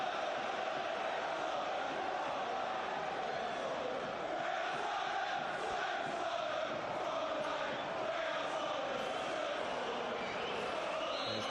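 Football stadium crowd at a Premier League match between West Ham United and Tottenham Hotspur, a dense, constant roar of applause and chanting filling the whole stretch.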